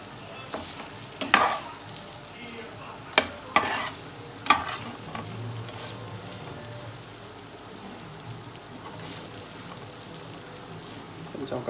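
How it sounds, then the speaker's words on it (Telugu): Pieces of chana dal dhokla are stirred gently in a frying pan. Soft scraping and a few sharper clinks sit over a steady low sizzle, and a voice talks faintly in the background. "చూసారా, కలుపుతూ ఉండాలి. దీన్ని లైట్గా కలపాలి."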